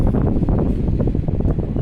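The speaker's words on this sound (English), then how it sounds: "Got a little breeze, but I think we'll be okay" A light breeze blows outdoors, rumbling low and buffeting the microphone in uneven gusts, close and continuous with no voices.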